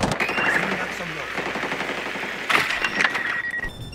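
Rapid bursts of automatic gunfire in Rainbow Six Siege, a tactical shooter game, rattling steadily with a sharper flurry near the end, with players talking over the shots.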